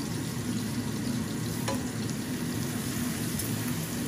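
Onions frying in a pan for a jackfruit curry cooked with dried fish, a steady close sizzle with faint stirring clicks and no talking.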